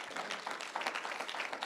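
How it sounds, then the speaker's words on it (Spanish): A church congregation claps in a dense, sustained round of applause, moderately distant and fairly quiet, without any voices over it. "Denle aplauso al Señor, hermano."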